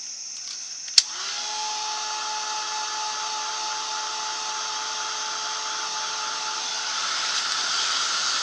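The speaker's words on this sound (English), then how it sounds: "let me hit it with the heat tool real quick" Heat tool drying freshly made stickers: a sharp click as it switches on, then a loud, steady blowing whir with a constant whine that holds to the end, no talking.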